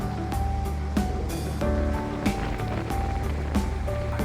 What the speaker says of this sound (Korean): 파도 치는 소리